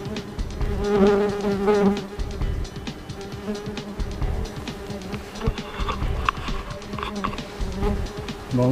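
German wasps swarm around their nest in a steady, close, dense buzzing drone, with many overlapping wingbeats and occasional knocks and taps underneath, and no voices.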